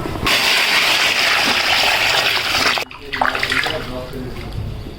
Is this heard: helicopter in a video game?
no